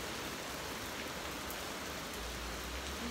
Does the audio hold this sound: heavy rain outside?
yes